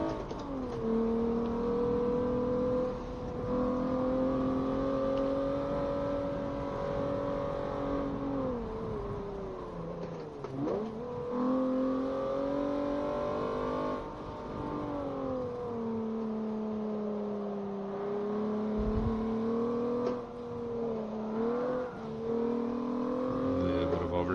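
Steady engine drone of a manual-transmission car in Forza Motorsport 7, rising and falling with throttle and gear changes, with a brief dip and rev around the middle and constant racing hum throughout.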